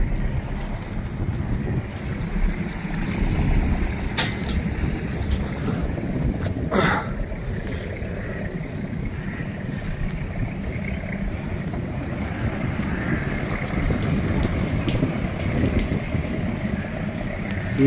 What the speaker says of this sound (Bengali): চলছে এখন আমাদের হাউস বোট।